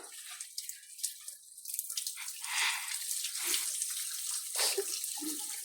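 Water is poured, splashing and trickling in short bursts, close and fairly quiet, with a few faint voices between pours.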